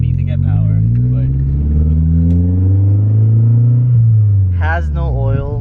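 Car engine revved hard with the throttle floored, a loud, close rumble climbing steadily in pitch for several seconds, then dropping, with a voice speaking over it at the end.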